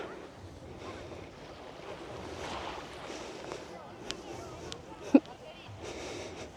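Sea waves wash in at Lanzheron beach under gusty wind buffeting the microphone, with a sharp knock partway through and a person talking faintly.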